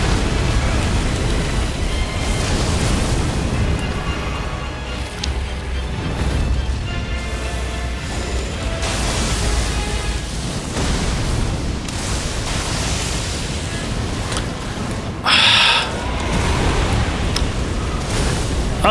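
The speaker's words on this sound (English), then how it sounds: "just explosions everywhere" Explosions from an Elden Ring boss fight, a dense, roaring, noisy blast wash that continues for the whole stretch, with one sharper, brighter burst late on.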